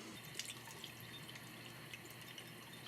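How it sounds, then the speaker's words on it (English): Faint, steady water from a tap rinses through beef intestine (tripe), with soft trickling and small drips throughout. "So I'm going to do my due diligence, and I'm going to rinse mine out from the inside out."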